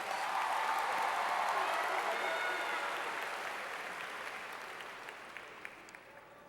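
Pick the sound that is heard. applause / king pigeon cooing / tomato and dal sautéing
applause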